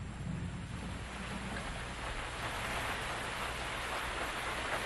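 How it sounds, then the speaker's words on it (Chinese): Heavy rain pours down in a cartoon scene, a dense, even hiss of falling water at moderate level, continuous throughout with no voices. "下好大的雨哦！"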